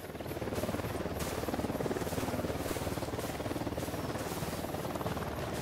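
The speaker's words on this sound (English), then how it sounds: "UNIDAD chopper, stay low." A military helicopter flies in the Ghost Recon Wildlands video game, its rotor giving a continuous, loud, rapidly pulsing thrum that holds steady throughout.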